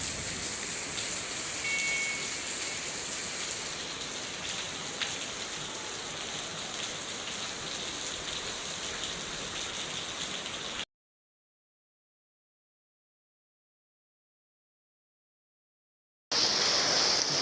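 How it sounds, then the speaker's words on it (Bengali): Heavy rain pours down in Tongi, a loud unbroken wash of hiss and patter that fills the scene, cut off by a stretch of silence before resuming. "দেখেন কি পরিমাণ বৃষ্টি হচ্ছে"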